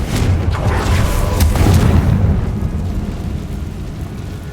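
In the game Hogwarts Legacy, a Confringo blasting spell sets off a heavy, booming explosion with a deep rumbling roar that swells in the first two seconds and then slowly decays.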